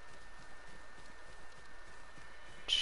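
Faint, even clip-clopping of horse hooves in Ghost of Tsushima keeps a steady trotting beat with no voices, ending with a brief brighter sound.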